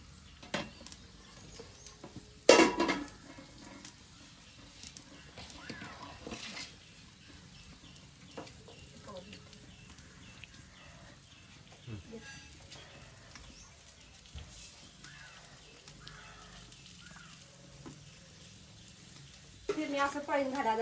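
Chicken sizzles softly after oil is poured over it during outdoor village cooking, a faint steady crackle with occasional clicks and a louder burst near the end, while people talk nearby.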